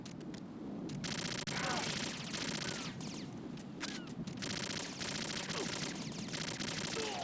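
Rapid gunfire in a video game, with bursts of shots hitting the player amid dense, continuous battle noise; a voice speaks briefly.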